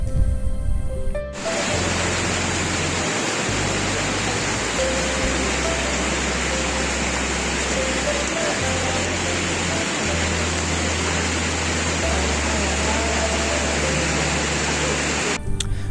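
Rain falling on Mount Slamet at a hiking rest stop, a dense steady hiss of rainfall that continues unbroken and fairly loud, with a low hum underneath.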